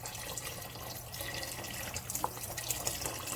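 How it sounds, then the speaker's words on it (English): Chicken stock poured from a shaken carton into a cooking pot for a shrimp sauce, a steady close splashing stream with a few brighter drips toward the end. "I'm gonna go ahead and pour all of this chicken stock"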